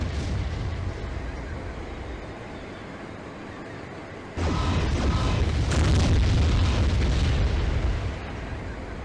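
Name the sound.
mech weapons firing and explosions in MechWarrior 3 video game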